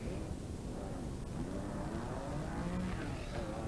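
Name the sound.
Porsche rally car in the 1982 Rally of the Lakes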